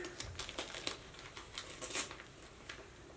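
A foot mask package being slowly peeled open, soft plastic crinkling and tearing in quiet, close bursts.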